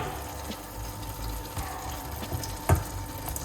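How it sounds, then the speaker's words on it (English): Liquid is poured off cooked mushrooms in a pan, a soft, low trickle and splash under a faint background hiss with one brief clunk near the end. "just pour off a little bit of the liquid"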